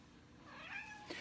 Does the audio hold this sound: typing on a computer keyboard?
no